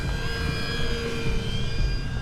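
FMS Maule 1500mm RC bush plane flying overhead, its electric motor giving a steady whining drone with sustained high tones over wind noise, continuous and fairly loud.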